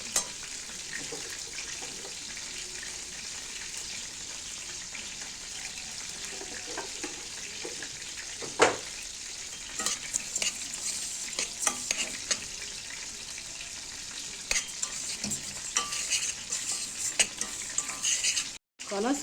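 Spices and two bay leaves stirred in a pot, with steady scraping and clinking of a spoon over continuous sizzling frying, close up and without talk.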